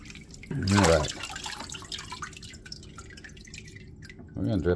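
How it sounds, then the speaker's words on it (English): Water drips off a rinsed slab of cured pork belly during homemade bacon preparation, a faint patter of small drops with a short burst of voice near the start and again at the end. "We're going to drip this water off here"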